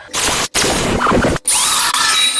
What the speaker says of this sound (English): I'm also going to drill it into the box here.